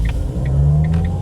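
The engine of a Jac T40 car revs as it shifts from first into second gear, a close, loud motor drone whose pitch climbs steadily, with faint ticking clicks over it and no speech.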